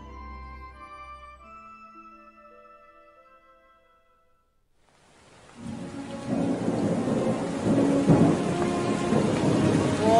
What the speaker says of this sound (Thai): มีฝนตก